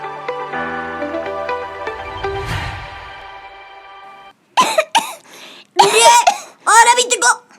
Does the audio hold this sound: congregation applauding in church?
no